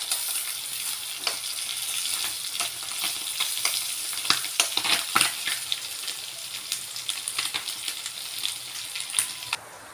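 Garlic frying in a hot pan until crispy for a ginger bisugo fish dish, a steady close sizzle with crackling pops that grow busier through the middle and no talk over it.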